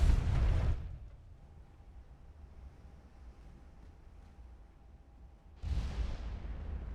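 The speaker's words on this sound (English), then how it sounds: "ammo explosion" A ship's ammunition magazine explodes in the naval battle game Ultimate Admiral: Dreadnoughts, a loud booming blast that fades over a second, followed by quiet, then another heavy rumbling burst near the end.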